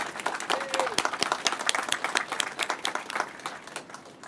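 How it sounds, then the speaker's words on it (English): An audience at a university innovation center ribbon cutting applauds the mayor, a dense burst of clapping from many hands that continues steadily without fading. "Can we please give him a round of applause?"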